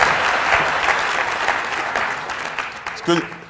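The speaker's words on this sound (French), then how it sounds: "vous pouvez applaudir Gaëtan" An audience at a French real estate seminar applauds Gaëtan with sustained, fairly loud clapping across the room, and a voice breaks in briefly near the end.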